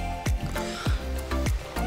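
Rhythmic watery splashes from a character treading water in GTA V Online, four soft sloshing strokes about every half second over a low ambient bed.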